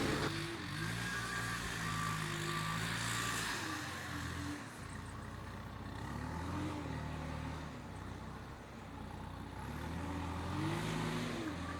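A forklift works near a trailer while loading an upper deck, its engine a steady, fairly loud drone that rises and falls in pitch with repeated revving throughout.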